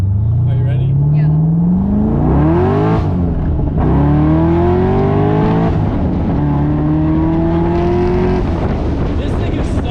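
An LS3 V8 Pontiac Solstice accelerates hard on the street, its engine note climbing through several rising gear pulls with brief shift breaks, loud and close throughout, with people talking over it.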